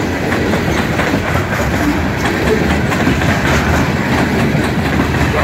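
An EMD SD38-2 locomotive pushes a Cumberland Coal Railroad coal train with a flat spot on one wheel. A loud, close, steady rumble carries continuous rhythmic rail clatter, with no talking.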